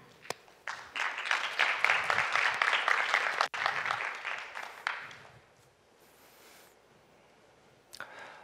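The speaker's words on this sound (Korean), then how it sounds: "큰 박수 부탁드립니다." Audience applause at a K.E.Y PLATFORM 2025 conference in Korea for a company CEO's talk, a dense burst of many hands clapping that swells for about four seconds, then thins and fades into quiet room tone, with a few scattered claps near the end.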